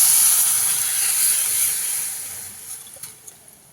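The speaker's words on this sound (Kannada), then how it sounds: "ಬೇಳೆ ಟೊಮೆಟೊ ಬೇಯಿಸ್ಕೊಂಡಿದ್ದು ಅದನ್ನು ಇದಕ್ಕೆ ಹುರಿತಾ ಇದ್ದೀನಿ" A loud hissing sizzle from a hot pan as cooked lentils and tomato fry, gradually fading, with a few light clicks of utensils near the end.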